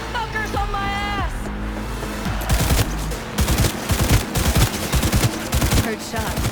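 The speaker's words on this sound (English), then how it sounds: "Heard shots." Rapid gunfire in Cyberpunk 2077 crackles in dense, uneven bursts, close and loud, following a stretch of spoken voice and background tones.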